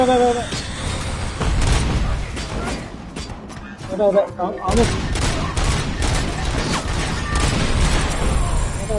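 Enemy sniper fire in the video game RoboCop: Rogue City: loud, dense bursts of shots and booms rattle on throughout, with a player talking over the gameplay.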